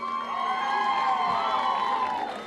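A concert crowd at the Fiesta del Durazno festival screams and cheers in a sustained, loud roar, with high shrill shrieks rising and falling over the mass of voices.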